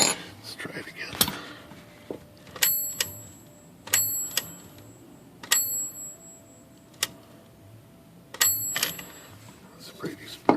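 The small bell of a Smith Corona manual typewriter rings in sharp single dings, repeated several times at irregular intervals, with mechanical clicks and clunks in between.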